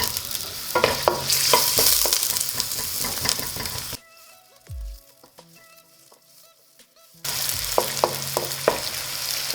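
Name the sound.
frying red onions in a pan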